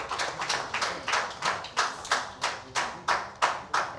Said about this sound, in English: Maybe we can give him a round of applause.